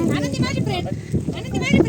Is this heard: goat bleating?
yes